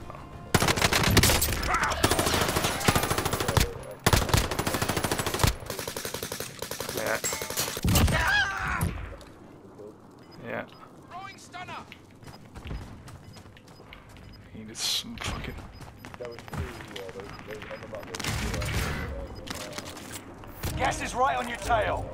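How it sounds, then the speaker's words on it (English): Rapid bursts of automatic gunfire and single shots in Call of Duty: Modern Warfare, loud and dense at first, then sparser, more distant shots under voice chat and radio callouts. "Safe zone. Gas is closing in. I'm taking fire."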